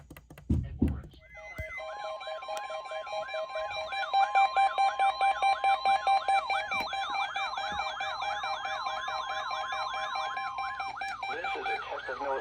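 A NOAA Weather Radio warning alarm test tone sounds loudly and steadily for about eleven seconds, a sustained warbling siren-like electronic tone following a brief burst at the start.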